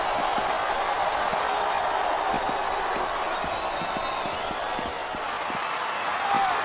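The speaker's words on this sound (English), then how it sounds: "This capacity crowd is making their opinions known tonight." Steady crowd roar fills a packed wrestling arena at WrestleMania 22, a broad wash of cheering with a few scattered claps and thuds under it, continuous and fairly loud.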